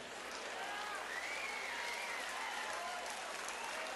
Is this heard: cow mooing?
no